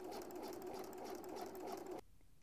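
A sewing machine stitches a seam in velvet with a steady, even whirring hum that stops abruptly near the end, leaving quiet room tone.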